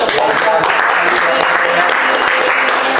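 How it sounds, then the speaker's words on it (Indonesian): An audience claps loudly and steadily for about three seconds at an Indonesian sports event, a dense applause with no break. "Oke, boleh tepuk tangan untuk Pemprov."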